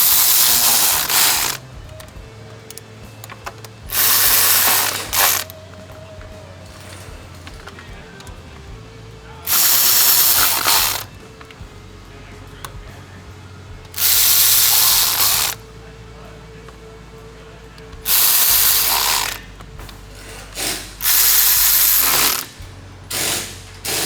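Ratchet clicking in repeated bursts of about two seconds while T30 Torx bolts are tightened on the water pump of a 2013 VW Beetle, with quiet pauses and faint background noise between bursts.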